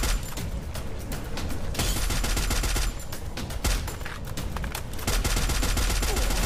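A grenade explodes in the Free Fire video game amid a dense, loud burst of constant gunfire and booming blasts that continues without letup.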